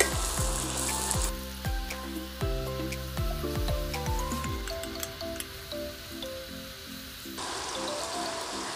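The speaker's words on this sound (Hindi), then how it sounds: "ऐसे हम सारे पतासे को तल लेंगे। मीडियम आंच पे हम तल रहे हैं।" Pani puri shells (patase) frying in mustard oil over medium heat, a steady close sizzle and bubbling that runs throughout beneath a layer of background music.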